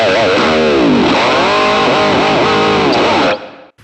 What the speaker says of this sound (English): This is the Fender 2x12. Sounds good for distortion.